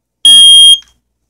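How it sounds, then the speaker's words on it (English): An I-9040 smoke alarm mounted on a smoke alarm board gives a single loud, piercing electronic beep lasting about half a second, then a brief fading tail, alone in the quiet. "So yeah, here's my smoke alarm board."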